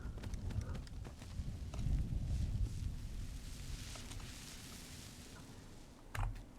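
Horse hooves clopping on the ground while riding in Skyrim, a steady, fairly close galloping rhythm that thins out toward the end, with a final thud as the rider dismounts.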